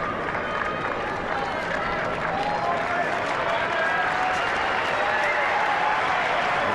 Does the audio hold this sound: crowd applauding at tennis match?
yes